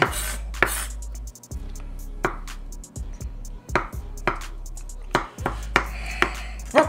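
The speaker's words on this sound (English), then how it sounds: "Rough chop your eggs." Knife rough-chopping hard-boiled eggs on a cutting board for chicken salad, a series of sharp, close, irregular chops over a low steady hum.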